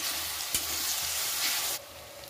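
Meat sautéing with ginger-garlic paste in a pan, a steady bright sizzle with a sharp scrape of stirring partway through, then the frying noise drops suddenly to a quieter hiss near the end.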